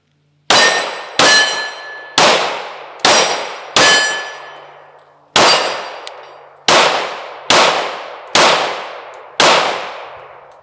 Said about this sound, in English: we're doing a little maintenance on the range by just shooting through bushes